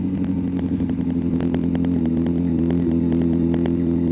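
A motorcycle engine holds a steady, loud drone through a sharp corner at slow speed, with light mechanical clatter over the constant hum.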